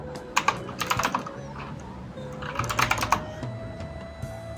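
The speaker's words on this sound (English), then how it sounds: "in the search bar, we are going to type Adobe XD" Keys clacking on a computer keyboard as a short search phrase is typed, arriving in two quick bursts of clicks separated by a pause, with a steady electronic hum underneath and no talking.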